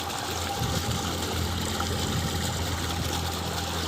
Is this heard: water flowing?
yes